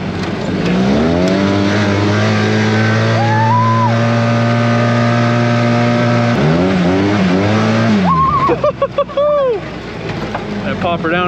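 A side-by-side in high four-wheel drive churns through mud, its engine revving loud and sustained with a steady drone that climbs in pitch, then surges in short bursts near the end while voices shout over it.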